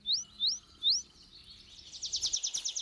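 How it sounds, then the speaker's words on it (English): A rare tree pipit in Germany's Teutoburg Forest, in open wood-pasture grazed by cattle and horses, sings clear, close rising notes, three spaced whistles that break into a fast, steady trill. "The rare tree pipit benefits from their deployment."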